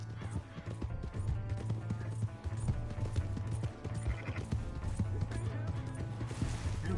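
Horse hooves clip-clopping in the Western video game Red Dead Redemption 2, a steady rhythmic trot under in-game voices and a low droning score, with occasional horse snorts nearby.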